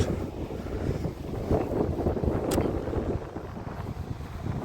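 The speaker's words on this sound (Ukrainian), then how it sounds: "Взагалі-то на океані, мабуть, шторм, оскільки дуже-дуже сильний вітер" Strong wind roars steadily across the microphone in a constant, gusty rush on an ocean beach at Lagoa de Albufeira, Portugal, with a faint wash of surf underneath.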